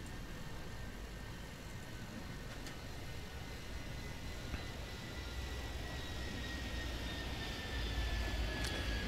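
Airplanes roaring in the airport-control video game Airport Madness 3D at Rocky Mountain, a steady broadband engine wash that swells slightly louder toward the end, with no talk over it.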